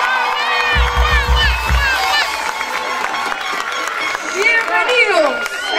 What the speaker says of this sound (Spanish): ¡Fuerte el aplauso para la tribu Chaná!